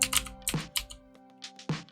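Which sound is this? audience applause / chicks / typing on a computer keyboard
typing on a computer keyboard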